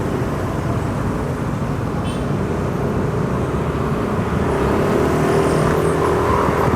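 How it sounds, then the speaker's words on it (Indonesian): Steady, dense roar of a heavy traffic jam on a Jakarta road near LRT construction, engines and tyres blending into a continuous loud wash with no clear individual passes. "Tuh macetnya parah ya."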